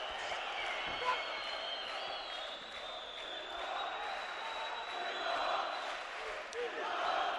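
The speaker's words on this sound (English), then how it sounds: "There's the crowd trying to cheer on" Arena crowd at a 2011 AIBA World Boxing Championship quarter-final bout, a steady wash of murmuring and scattered shouts of encouragement rising slightly toward the end, heard at a distance without clear bursts of applause.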